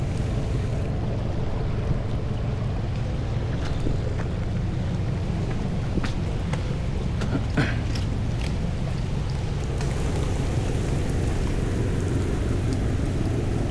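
Steady rain pours down outdoors during a fishing trip for wild barramundi using a float rig, a dense continuous hiss with scattered sharper drips and taps, without any talk.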